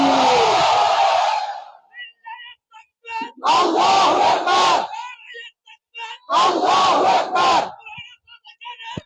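A large crowd at a religious gathering shouts the takbir slogan in two loud, massed bursts, each answering a single leading voice that calls out between them.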